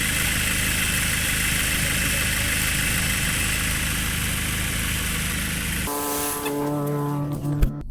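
A 2019 Subaru Forester idles with its AC compressor running, giving a steady, even engine hum with a broad hiss that continues for most of the clip before dropping to a quieter idle with a few faint clicks near the end.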